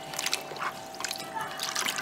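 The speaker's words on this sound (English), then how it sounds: "we're just gonna run it through our fingers in the water" Freshly churned butter is worked by hand in a bowl of water, giving gentle sloshing and trickling splashes in small irregular bursts, close and fairly quiet.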